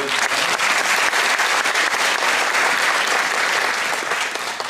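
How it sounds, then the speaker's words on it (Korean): Hall audience at a Korean farm policy debate and talk concert with local leaders gives a city mayor a strong, continuous round of clapping, loud and even throughout with no voices standing out. "그리고 연태영 시장님께 박수 한번."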